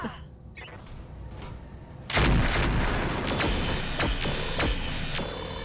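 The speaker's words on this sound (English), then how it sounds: "Not good autocannon hit, to be sure." Autocannon fire in the mech combat video game RogueTech: after a quieter stretch, a loud burst of rapid cannon shots and blasts erupts and keeps rumbling for several seconds.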